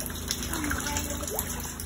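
Collected rainwater pours steadily into a container for watering flowers and vegetables, a continuous moderate gush and splash with a faint background hum, no voices.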